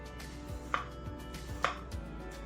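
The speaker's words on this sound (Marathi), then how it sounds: "आणि असे बारीक बारीक तुकडे करायचे आपल्याला" Ridge gourd chopped into small pieces, a knife striking a board in a slow, even rhythm of crisp knocks, close and moderately loud, with no speech.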